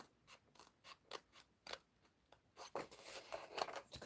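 Scissors snip through a paper template for a treat box in a rhythm of short, crisp cuts, then a quicker run of crunching snips, close and quiet.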